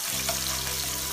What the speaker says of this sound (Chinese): 倒入姜蒜辣椒，先煸炒一下